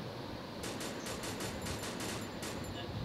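Rapid bursts of automatic gunfire in a shooting video game, a string of crackling shots in quick succession over steady game background noise.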